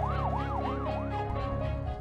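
An ambulance siren in Quezon Province, Philippines, wails in smooth rising and falling sweeps that repeat about every third of a second, loud and steady with no voices.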